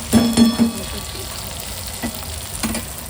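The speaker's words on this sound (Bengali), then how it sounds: "এদিকে হচ্ছে হলো ভেন্ডি ভাজা, এদিকে হচ্ছে ভেন্ডি ভাজা।" Okra frying in a pan until crisp, with sharp crackling sizzle and a few scraping stirs that come in short bursts near the start and again later over a continuous hot-oil hiss.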